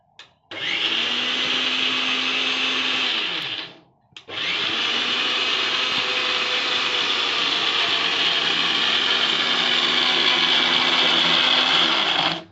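Kitchen mixer grinder pulverizing chhana (cottage cheese) for sweets, a loud high whirring motor that runs, cuts out briefly, then restarts and runs steadily before stopping.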